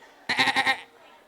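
A person imitates a goat's bleat with a short, wavering, nasal call lasting about half a second, close and clear against a quiet room.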